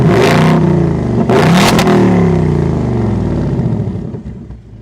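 A Toyota GR Corolla-class performance car engine in racetrack mode revs hard twice, loud and close, with a deep roaring rumble and throaty bursts before the note settles and fades away.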